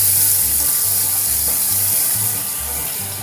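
Onions and a can of Rotel sizzle in butter in a pan over a campfire, a steady loud frying hiss running through the whole clip with no talk over it.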